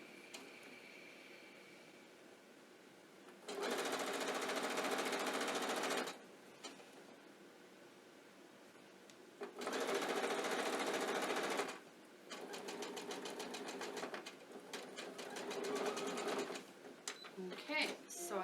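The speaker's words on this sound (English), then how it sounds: "now I need to finish sewing this binding onto the mug rug" A sewing machine runs in three steady bursts, stitching rick rack binding onto a small quilted mug rug, with quiet pauses between runs and a voice faintly present.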